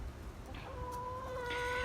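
A hen gives soft, short clucks and a faint higher call close by against a quiet background with low rumble, a few brief vocal notes within under two seconds.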